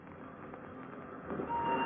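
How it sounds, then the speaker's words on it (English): Radio-drama train effect: a steady muffled rumble of a train running on rails, even and moderately loud, swelling slightly near the end, with a faint thin tone appearing briefly. "Gee, this train really makes time."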